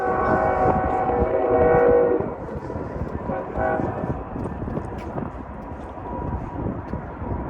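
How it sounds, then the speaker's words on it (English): A CSX freight train crossing near the Walkway Over the Hudson in Poughkeepsie rumbles past with a blaring horn at first, then continuous rolling and clanking of wagons that fades slightly but keeps going. "Here we can see the CXX freight traffic."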